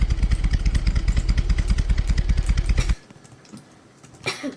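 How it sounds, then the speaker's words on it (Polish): A motorcycle engine in a Roblox video game revs loudly in a rapid pulsing rhythm for about three seconds, then cuts off, leaving quiet background with a brief rustle near the end. "Fajny masz motor, mogę się przejechać?"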